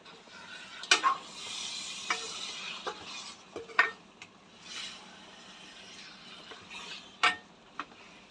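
Chicken being stirred in a sizzling pan, with a soft continuous frying hiss broken by sharp clinks and scrapes of a spoon against the pan at irregular intervals.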